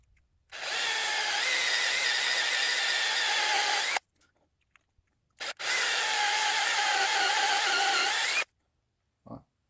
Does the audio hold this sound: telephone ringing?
no